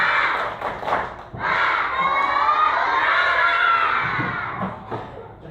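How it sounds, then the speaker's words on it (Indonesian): Elementary schoolchildren in a classroom shout a spirited clap chant together, a loud, close burst of massed young voices with rhythmic claps and thumps that fades toward the end. "Coba kamu dengar tepuk semangat."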